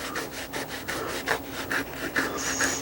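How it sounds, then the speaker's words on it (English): Sandpaper rubs on a leather axe head sheath in quick, rhythmic back-and-forth strokes, a close, dry rasping scratch repeated about a dozen times. "Little sandpaper. And yeah, you can sand leather"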